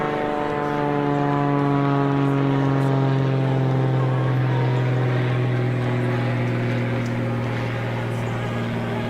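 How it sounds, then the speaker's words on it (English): A propeller airplane droning overhead, a loud steady hum with a strong low tone that holds evenly throughout with little change in pitch. "There's a plane."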